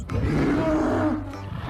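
A toy Triceratops dinosaur plays a roar sound effect, a single loud growling roar lasting over a second before trailing off, heard up close.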